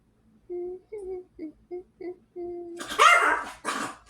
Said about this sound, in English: The dogs are going crazy.